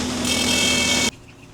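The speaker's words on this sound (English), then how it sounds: "as I'm sanding it down" Wood is sanded with a loud, steady abrasive rasp lasting about a second, then it stops abruptly, leaving faint room noise.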